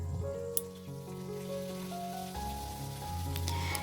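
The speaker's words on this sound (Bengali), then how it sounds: "আর দেখো এদিকে আমি মাছও ভাজছি ওদিকে" Fish frying in a pan on a home stove makes a soft, constant hiss under a droning tonal hum, with one brief clatter early on.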